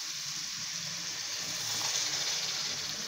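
A steady hiss and gush of water poured into hot cooking masala for mutton kofta curry gravy, broadband and even throughout, with no voices.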